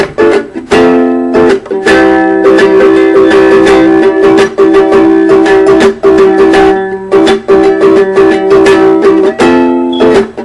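A looped chord pattern from a song strummed on guitar, continuous and rhythmic with bright ringing harmonics, near and loud from start to finish.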